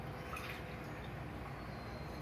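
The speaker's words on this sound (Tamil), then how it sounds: "அதே டம்ளர்ல தண்ணியும் ஆறு டம்ளர் ஊற்றிடணும்." Water is poured from a tumbler, six measures in all, into a pot of rice for mushroom biryani, making a soft, steady trickle and splash that runs on alone without pause.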